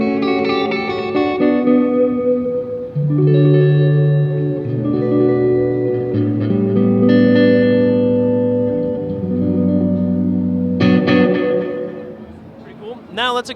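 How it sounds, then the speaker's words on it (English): Electric guitar through an EarthQuaker Devices delay pedal, with a touch of reverb added to the delay, playing sustained, ringing chords and notes that blur into a wash of echoes, loud and close, ending with a brief scrape. "I'm going to add just a touch of reverb to the same sound."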